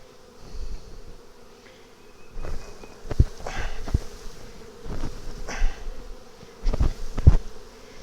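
Honey bees buzz around an open hive during a transfer from a nuc to a double deep box, their droning hum steady and close with louder swells as bees pass near, plus a few soft knocks.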